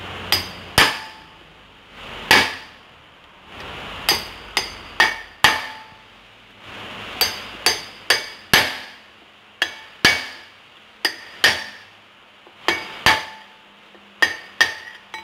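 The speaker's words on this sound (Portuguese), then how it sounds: "Vai colocar aqui, ó, com a marretinha" Sharp metallic hammer strikes from a small mallet driving a punch against a wheel lock bolt on a Ford EcoSport or Fiesta wheel, about two dozen loud ringing blows in uneven bursts with brief pauses between groups.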